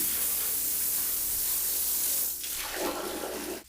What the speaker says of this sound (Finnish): pesen häkkiä nopeasti